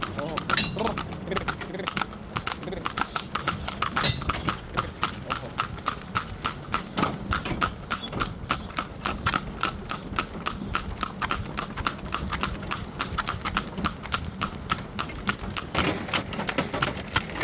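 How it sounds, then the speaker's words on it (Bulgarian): Horse hooves clip-clop steadily at a walking pace during a ride through a Bulgarian village, an even rhythm of fairly quiet hoof strikes that continues throughout. "На разходка с кон."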